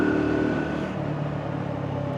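An AJS Tempest motorcycle, just back from brake repair, accelerates through the gears on a road test ride, its engine note droning steadily and close with a shift in pitch partway through, over constant wind rush.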